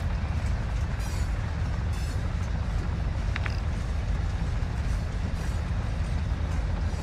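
Train moving in the video game Call of Duty DMZ, a steady rumbling rail roll with faint clattering, continuous and fairly near throughout with no talk.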